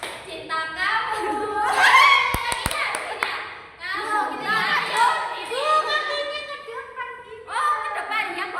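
Schoolchildren in a sixth-grade class perform the Indonesian clapping chant tepuk cinta, with bursts of sharp hand claps between chanted, sung phrases from young voices, nearby and lively.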